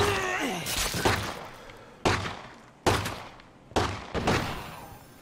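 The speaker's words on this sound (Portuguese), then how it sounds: "Caraca, não param, né, de atirar." Bursts of gunfire aimed at zombies in the Xbox One game State of Decay 2, heard as four loud, sharp shot clusters spaced about a second apart, each decaying quickly, with no talking over them.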